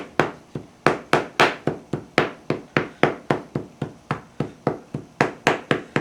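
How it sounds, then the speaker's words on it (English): Clay is rammed into the lower half of a bronze-casting mold with a hammer, giving about twenty sharp, loud, evenly spaced blows at close range, each with a short ringing decay and no talking. "and now I'm hammering it in."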